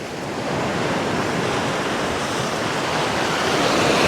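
Ocean surf washes steadily onto a quiet beach, a loud continuous roar of breaking waves with a little wind, building slightly toward the end, with no voices.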